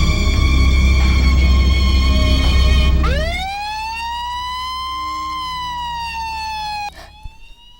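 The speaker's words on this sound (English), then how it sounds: "Then you see him taken away in an ambulance and Jerry's the paramedic" An ambulance siren from a film scene rises into a loud, steady wail after a heavy rumbling stretch, sounding alone with no talking.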